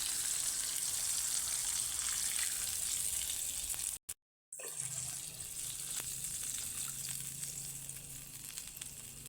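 Water is poured into a hot pan of frying, ground-up dried chickpea-leaf vegetable in a village kitchen. A loud, steady sizzle runs throughout, briefly cuts out, then resumes with a lower rushing tone as the water goes in.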